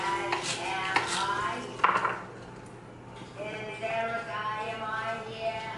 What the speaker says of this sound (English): Cut that celery up.